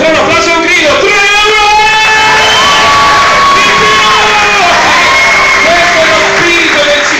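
A concert crowd at a swing band performance claps and shouts together, a loud, continuous wall of cheering and whoops that fills the whole stretch without a break.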